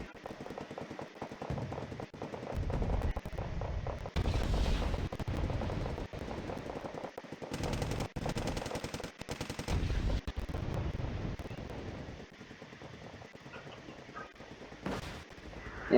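In the video game Wargame Red Dragon, an anti-material sniper fires 20mm rounds, producing repeated heavy bursts of automatic-sounding gunfire that come in clusters over a rumbling battlefield, fairly loud, with no talk.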